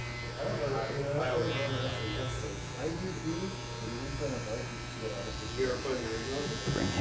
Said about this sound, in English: just kind of opening and closing the clipper